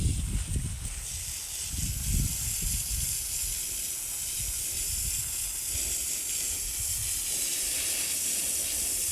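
A regular garden water hose set to a stream sprays hard against a freshly caught fish to strip its scales, a loud steady hiss that carries on throughout, with splashing bursts in the first seconds.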